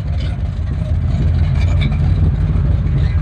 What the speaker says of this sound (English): Got a nice little rumble. Carburetor's working out great.